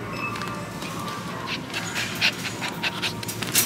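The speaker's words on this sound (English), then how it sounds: "Crazy dog." Dog panting close by, rapid rhythmic breaths with a few sharper huffs over light background noise.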